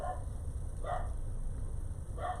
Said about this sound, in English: That's Aurora, my dog, who is yelling at everyone who pulls up to deliver anything